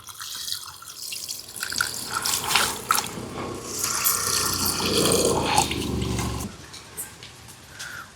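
Water poured into a pan of mutton with turmeric, salt and oil for a gongura mutton curry, a close splashing gush swelling midway then fading, with a voice talking at points.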